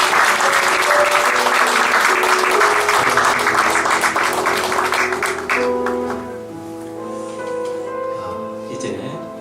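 Church congregation applauding after an infant baptism during a Christmas service, loud steady clapping that fades after about six seconds into a sustained organ-like tone with a few lingering claps.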